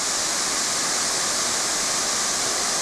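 A massive waterfall plunges about 1,300 feet past a narrow cliff ledge, its steady, dense roar filling the air without break and without any voices.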